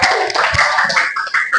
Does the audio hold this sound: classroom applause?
yes